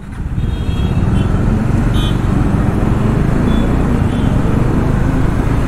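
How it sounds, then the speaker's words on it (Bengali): Loud, continuous engine roar from a superbike echoing inside a road tunnel, a dense rumble heard up close from traffic on a scooter ride. "সুপার বাইকের আওয়াজ"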